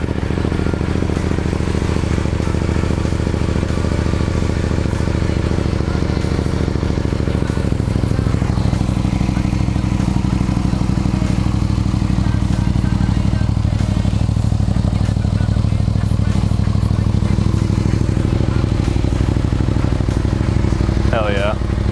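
A Yamaha MT-07 fitted with an Akrapovic exhaust starts cold and runs at a steady, loud idle close by. Its low rumble holds unbroken throughout the clip.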